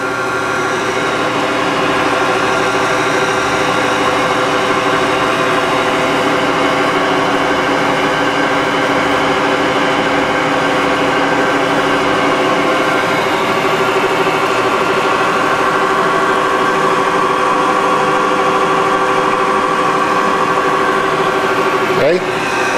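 A Kearney & Trecker Model 205-S-12 vertical milling machine runs steadily, its spindle and motor giving a constant loud hum with steady tonal whine throughout, while a voice talks over it.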